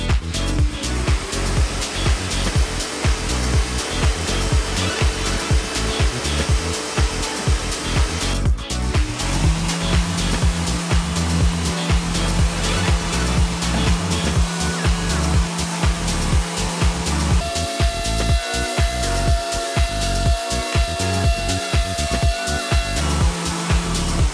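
A Mirka Deros electric random orbital sander runs with 80-grit abrasive on a protective interface pad, giving a loud, steady whir with a sustained tonal hum that shifts in pitch partway through, with no talking.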